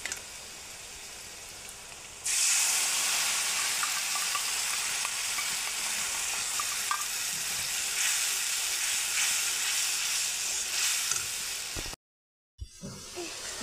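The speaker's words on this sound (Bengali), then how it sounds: "মশলাটা ভালো করে ভুনতে লাগবো যাতে মশলাটা সাইডে সাইডে পুরো তেল ছেড়ে দেয়" Spice paste frying in hot oil in a pan for a fish roe curry, giving a loud, steady sizzle and hiss that starts abruptly and continues without pause, then cuts out briefly near the end.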